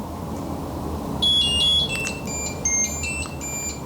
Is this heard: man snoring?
no